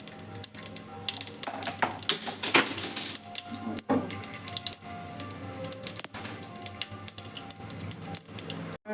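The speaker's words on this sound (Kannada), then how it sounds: "ಸಾಸಿವೆ ಹಾಕ್ಕೊಳ್ತಾ ಇದ್ದೀನಿ ಮತ್ತು ಒಂದು ಸ್ಪೂನು ಕಡಲೆಬೇಳೆ ಒಂದು ಸ್ಪೂನು ಹಾಕ್ತಾ ಇದ್ದೀನಿ ಇವಾಗ ಸ್ವಲ್ಪ ಕೆಂಪು ಆಗಲಿ" Mustard seeds and a spoonful of chana dal spluttering in hot oil, with irregular crackles, pops and small sharp ticks scattered steadily across the clip at close range, no voices.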